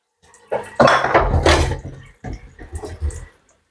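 Coconut being washed in water in a home kitchen, with splashing, sloshing and knocking against a bowl or basin in two short close bursts separated by a pause.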